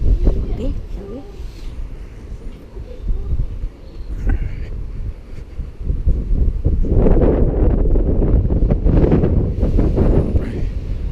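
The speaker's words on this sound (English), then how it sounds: "It's windy." Wind gusting outdoors on a cold, showery day, a broad steady roar that swells louder in the second half, with people talking intermittently underneath.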